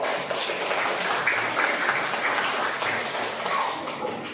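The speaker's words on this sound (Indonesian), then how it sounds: "Tepuk tangan dulu" A classroom of students claps together in a dense, steady patter of applause for a few seconds, fairly soft and even.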